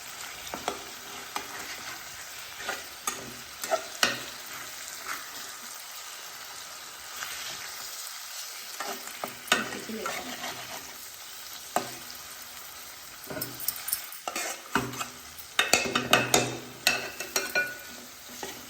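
Fish pieces fry in oil while cooking a fish curry (chepala pulusu), a steady close sizzle broken by repeated scraping and clattering knocks as the pieces are flipped and tossed in the pan.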